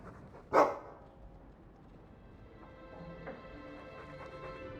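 A single sharp dog bark sounds from the Dragon Age II video game, loud and close, then fades into quiet game ambience with faint background tones.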